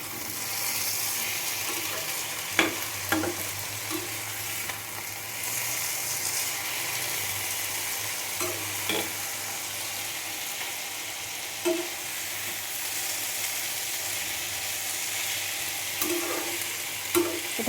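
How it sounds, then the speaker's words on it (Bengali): A small-fish curry, chunomach bati chorchori, is stirred gently in a pan over steady frying sizzle, with a few soft scraping taps of the spoon scattered through the long, even background hiss. "এটাকে এবারে হালকা করে নেড়ে চেড়ে দেবো।"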